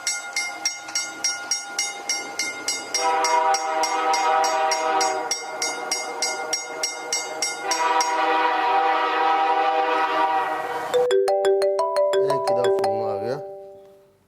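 A train sounds its horn at a railway station platform in Pakistan: a run of pulsing tonal blasts swells into long sustained blares, then a final wavering tone that fades out near the end.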